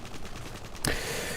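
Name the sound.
L86 LSW gunfire in Modern Warfare 3 video game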